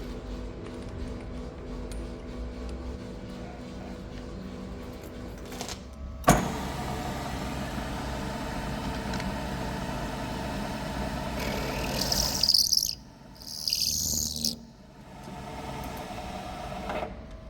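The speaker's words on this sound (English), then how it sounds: "Now I'm going to go in with a carbide 45-degree countersinking bit." Drill running a carbide 45-degree countersinking bit into a hole, a steady mechanical whir and grinding that gets louder midway, with a sharp knock and brief high-pitched squeals near the end, no talking.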